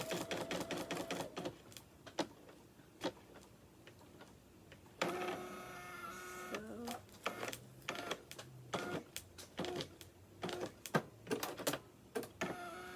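An embroidery machine stitching out a box outline on a blanket, a steady rapid mechanical ticking and whirring with rhythmic needle clatter and brief pauses, close and continuous with no talking.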